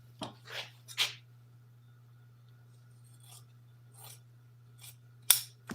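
Scissors cut leather for recovering an airplane seat in a few separate, close snips: two or three quick strokes first, then sparse rasping cuts spread out over several seconds against a steady low electrical hum.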